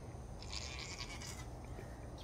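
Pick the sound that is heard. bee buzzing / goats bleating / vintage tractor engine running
goats bleating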